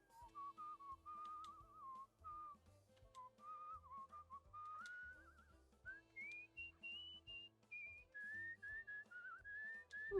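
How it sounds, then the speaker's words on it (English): A clear melodic whistled tune in the game Where the Water Tastes Like Wine, notes rising and falling in a lively phrase over a soft rhythmic backing of low musical tones. "Gotta whistle over the mountains."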